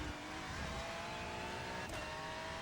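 Race car engine at full throttle on a track exit in the iRacing sim, a loud, continuous buzzing roar that climbs steadily in pitch as it accelerates, with a brief swish near the end.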